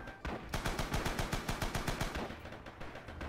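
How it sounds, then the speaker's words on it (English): Machine gun fire in the video game Rising Storm: a rapid, loud burst of evenly spaced shots lasting about two seconds before stopping. "Ooh, machine gun."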